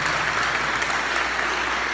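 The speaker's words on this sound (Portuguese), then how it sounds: "Vamos aplaudir a participação das mulheres." A church congregation applauds together in steady, dense clapping that stays even and fairly loud across the short stretch, with no voices standing out.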